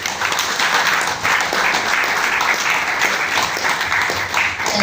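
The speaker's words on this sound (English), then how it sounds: "The clap for him goes without saying." Dense, steady applause from an audience fills the whole stretch at an event, loud and continuous with only slight dips in intensity.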